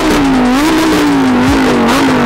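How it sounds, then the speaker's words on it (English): A Lamborghini engine revving loudly and close, a sustained roaring drone that climbs and dips through several throttle blips over a couple of seconds. "Rev it up, man. We need the revs."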